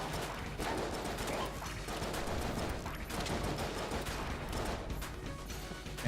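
A portable turret firing in a roguelike video game, a dense, steady stream of rapid shots and impacts held at an even level for several seconds amid busy game noise.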